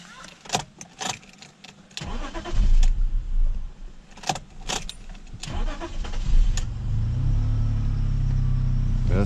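A BMW 530i engine runs unevenly and then stalls, with a low rumble and sharp clicks near the start. The engine settles into a steady low drone toward the end, heard close up.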